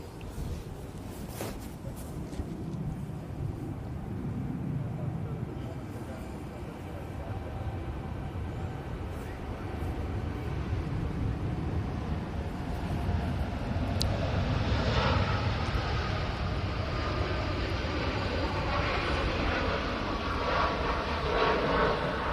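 A Boeing 787 Dreamliner rolls for takeoff at Manchester Airport, a broad steady roar of jet engines heard from a distance. The roar builds gradually and swells toward the end, under faint wind and background noise.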